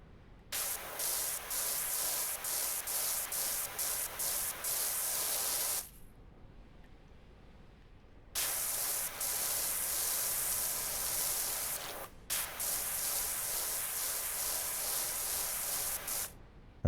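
A raccoon character in a video game sprays paint from a can: long, loud hissing bursts with rapid pulsing, broken by pauses of quiet, then resuming twice.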